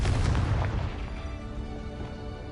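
A Confringo spell blast in Hogwarts Legacy, a loud booming explosion that opens heavy and rumbling, then fades slowly into a ringing tail, with no voices.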